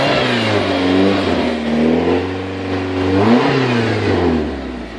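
A 1992 Mazda MX5 Mk1 with a Greddy 1.6 turbo engine revs steadily and up close. The pitch swells and falls in several waves, with a sharper rise just past the middle, and there is no talk.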